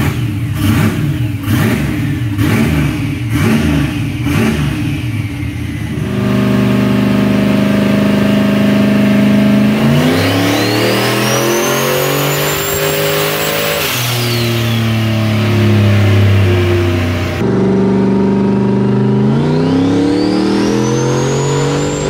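A swapped Ford Bronco with a turbocharged engine and a Brian Tooley Stage 3 turbo cam blips through several quick, loud revs. It then roars through long, rising accelerations with a high turbo whine, close and alone without talk.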